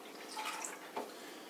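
Film developer liquid poured into a container for developing Ilford film, a soft, fairly quiet trickle and splash of liquid lasting over a second with a slight surge near the end.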